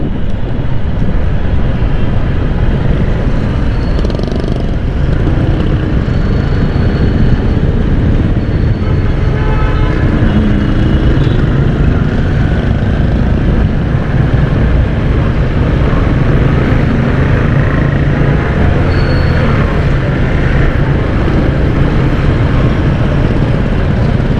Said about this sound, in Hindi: यहाँ पर भी ट्रैफिक जाम है भाई